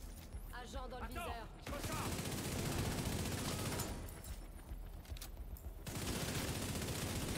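Rapid bursts of gunfire from The Division 2 rattle loudly through most of the stretch, dense and continuous with a brief lull near the start and another toward the end, with a voice speaking briefly at the opening.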